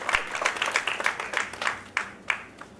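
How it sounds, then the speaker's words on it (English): An audience claps in applause for a family of artists at an Alapana music event, dense overlapping claps rising and falling in bursts over a few seconds, fairly close and fading toward the end. "So I think give that family a very big round of applause for that."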